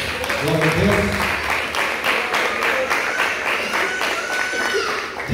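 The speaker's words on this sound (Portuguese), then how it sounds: "Você pode dar um aplauso a Jesus?" A church congregation claps in rhythm, a regular beat of collective hand claps filling the room while a voice speaks over the opening moments, loud and sustained to the end.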